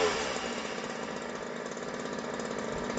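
Ryobi RY3818 gas chainsaw engine running steadily during carburetor adjustment, a close, continuous buzzing drone with no speech.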